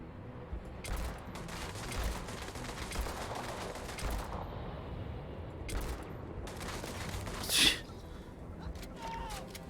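Gunfire from the Starfield video game, scattered shots and bursts at moderate loudness over a steady game ambience, with one sharper, louder shot standing out near the end.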